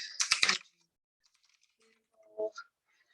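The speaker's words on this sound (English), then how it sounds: "So you just type your question." A short burst of clicks from a computer keyboard is followed by a few faint, scattered taps in near silence.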